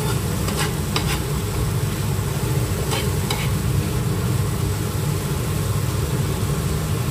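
An egg mixture with garlic and ginger paste fries in a pan, producing a loud, constant sizzle close by, with a few brief stirring clatters near the start.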